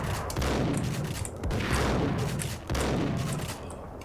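A shotgun firing repeatedly in Max Payne, three loud heavy blasts spaced about a second apart, each with a short rumbling tail, up close and with no speech.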